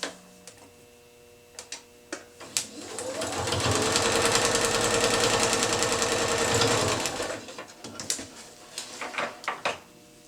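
A sewing machine stitches quilt pieces in one steady, loud run lasting several seconds, with brief clicks and handling knocks before and after.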